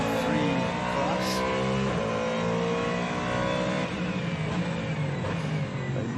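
The #311 Cadillac race car driven by Jack Aitken runs into the pit lane at Le Mans, a steady loud engine drone with faint other cars in the background; no talk is heard.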